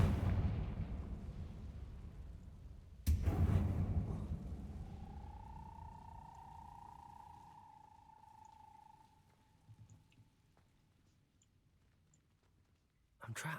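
A Confringo spell going off in a Harry Potter video game, one sharp loud blast followed by a rumbling decay and a sustained magical tone that fades out, with a second hit near the end.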